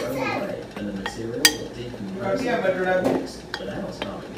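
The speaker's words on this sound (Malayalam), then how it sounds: "ഇനി നമുക്ക് ഇതെല്ലാം നന്നായിട്ട് മിക്സ് ചെയ്തെടുക്കണം" A flour mixture with pepper powder being stirred in a bowl, giving clattering scrapes and clinks of a utensil against the bowl, with a voice chattering in the background.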